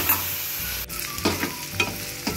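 Onions frying in a pan on the stove, a steady close sizzle broken by several scraping stirs, with no talking.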